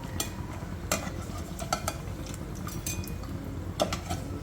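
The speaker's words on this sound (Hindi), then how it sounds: "अब देखिए बिल्कुल कुछ सेकंडों में ये फ्राई हो जाती है, मीडियम गर्म ऑयल में" Green chillies fry in medium-hot oil, giving a steady low sizzle with occasional brighter crackles and a few stirring scrapes, close and fairly quiet, with no talking.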